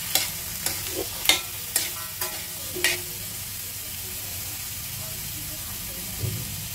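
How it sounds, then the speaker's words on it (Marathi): Mixed vegetables stir-fried in oil for Kolhapur-style bhogi bhaji, with a run of spatula scrapes and clinks against the pan over a low, steady sizzle, then quieter frying. "त्या भाज्या आपण तेलामध्ये चांगल्या परतवून घ्यायच्या आहेत"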